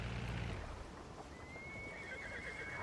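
Horses in a video game set around 1900 with covered wagons and four-horse carts let out a loud, clear whinny that rises and then trails off, with faint clip-clop underneath.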